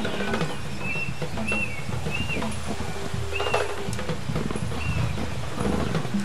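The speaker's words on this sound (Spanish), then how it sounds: "Suena a tigre," A big cat, tiger or lion, roars in the savanna of the game Ancestors: The Humankind Odyssey. Low, rumbling growls come through a steady wild ambience with bird chirps, and someone talks faintly underneath.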